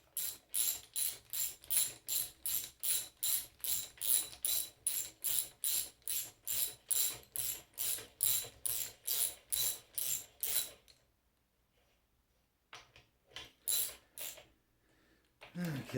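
A hand ratchet snugs down the crankshaft main cap bolts on a Mopar LA 360 engine, a close, steady series of evenly spaced clicking strokes, then a pause and a few more short ratchet bursts.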